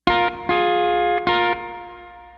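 Three single strums on an electric guitar, each chord ringing briefly before the next, the last one sustaining and fading out with a touch of effects.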